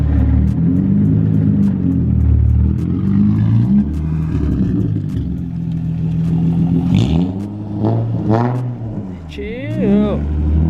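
A car at a 3 a.m. car meet, with a Mitsubishi Evo and a Nissan 350Z present, idles loudly with a low rumble, then revs in rising and falling bursts and pulls away while people talk over it.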